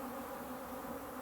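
A brief, unbroken swarm drone of irritated African honey bees around a hive opened after winter, loud and close with a steady buzzing hum throughout.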